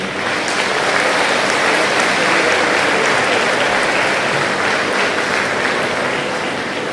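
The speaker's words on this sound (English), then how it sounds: "give a big round of applause to your families for all they've done for you" A commencement audience at Chittenango High School's 2023 graduation breaks into loud, sustained applause, a dense even wash of clapping that holds steady for about seven seconds with no voices over it.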